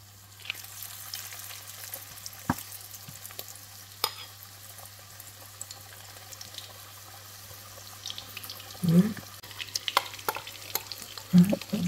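Small battered shrimp frying in a pan for a Vietnamese home meal, a soft steady sizzle under faint stirring and scraping, with a few louder bursts of crackle toward the end.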